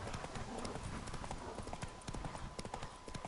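Horse hooves clip-clop steadily and briskly in The Witcher 3: Wild Hunt, a rapid rhythmic patter over constant background noise, with faint talk mixed in.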